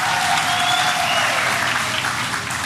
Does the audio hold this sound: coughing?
no